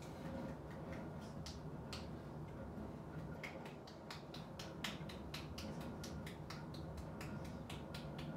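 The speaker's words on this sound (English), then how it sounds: "10 seconds while I clap my hands" A person clapping their hands during a dog relaxation training session. Sharp, fairly quiet claps come in an uneven series across several seconds over a soft background.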